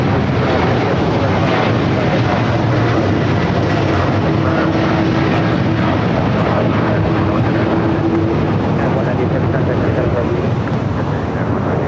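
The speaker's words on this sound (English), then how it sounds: "we do have a United Dreamliner rocking and rolling down the 25 right" United Boeing 787 Dreamliner on its takeoff roll down runway 25 right at LAX, a loud continuous rumbling engine roar with a faint tonal whine, voices talking over it.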